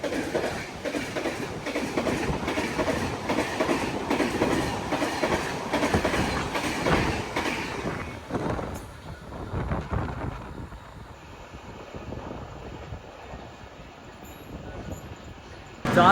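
Sampark Kranti passenger express train running on the rails with steady rhythmic clickety-clack and rumble, loud and close for the first half, then easing to a quieter, softer roll.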